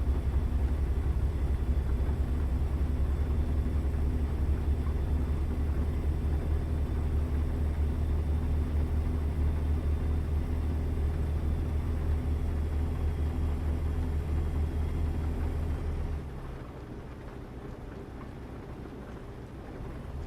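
Truck engine in American Truck Simulator, a steady loud low rumble droning for about sixteen seconds before dropping to a quieter idle-like hum.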